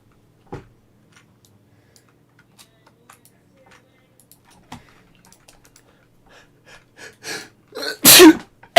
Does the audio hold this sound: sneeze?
yes